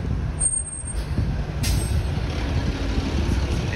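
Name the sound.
Orion 7 NG diesel bus arriving with air brakes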